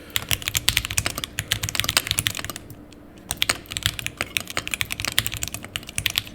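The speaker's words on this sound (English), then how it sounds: "they asked to type slower, so you can hear it. I'll type like a boomer." Dense, rapid clatter of keys on a computer keyboard, typed in a steady stream of close, crisp clicks with a brief pause midway, no talking.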